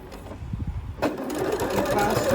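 A sewing machine backstitches over a ribbon on a fabric bread basket, starting after a moment and then running in a steady, close, whirring stitch rhythm, with someone talking over it.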